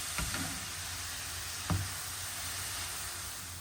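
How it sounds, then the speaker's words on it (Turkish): Grated carrots sautéing in oil in a pan give a steady soft sizzle throughout, with two brief stirring scrapes near the start and in the middle. "Yağımın üzerine rendelediğim 4 adet havucumu ilave ediyorum ve havuçlarım iyice yumuşayana kadar ara ara karıştırarak pişiriyorum."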